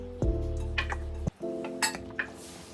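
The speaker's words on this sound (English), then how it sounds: "Mix it well." A utensil scrapes and clinks against a pan while fried vegetables are mixed into a creamy white pasta sauce, with a few distinct knocks and clatters over a steady low hum.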